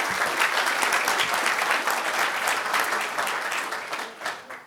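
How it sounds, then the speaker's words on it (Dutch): An audience at a municipal election debate in Kollum claps warmly and steadily for a few seconds, dense applause from a crowd filling the room before tapering off. "Even een opwarm applaus voor deze meisje."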